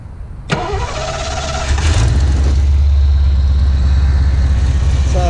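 A rusty 1985 Ford Mustang SSP, an ex-Florida Highway Patrol car with a carbureted V8 and dual-snorkel air cleaner, cranks briefly, then catches and settles into a loud, steady, rumbling idle heard up close.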